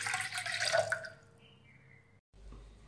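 Roughly one and a half glasses of water poured into a large pot for Maharashtrian buttermilk: a close, splashy rush lasting about a second, then fading to quiet trickles and drips.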